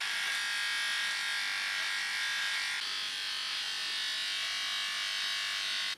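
An electric beard trimmer fitted with a size 3 guard trims a man's mustache, buzzing steadily and loudly at close range without a break until it shuts off at the end.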